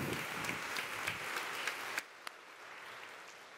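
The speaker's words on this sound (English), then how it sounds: "Will you all join me with indicating so by a round of applause?" A church congregation gives a round of applause during a traditional worship service, a moderate patter of clapping that stops abruptly partway, leaving quiet room tone with a single stray clap.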